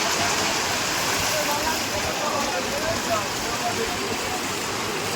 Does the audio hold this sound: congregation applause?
no